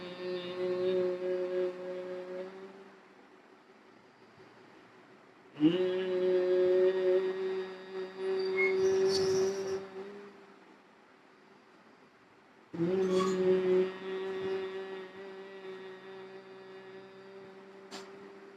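Several long, steady humming tones, each held for a few seconds, produced by a voice imitating a bee's buzz during bhramari breathing, with quiet pauses between.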